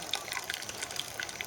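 Boiled beer wort trickles and drips from a hop spider lifted out of a brewing pot with a false bottom, a soft, steady splashing that stays faint and close.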